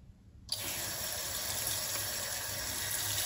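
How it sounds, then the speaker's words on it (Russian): After a brief quiet moment, water begins to pour steadily and noisily into floral foam, like liquid gushing from a tap into a container, continuing without a break. "Наполняю флористическую губку водой."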